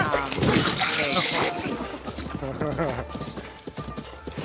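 Horse hooves clip-clop at a gallop in Zelda Breath of the Wild on Nintendo Switch, a rhythmic galloping beat running under steady talk, with a brief whinny.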